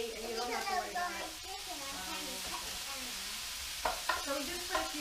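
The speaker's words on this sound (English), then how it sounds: "So we just put a few leeks in there." Leeks fry in a pan with a soft, steady sizzle and occasional stirring scrapes, quiet beneath a person speaking in a home kitchen.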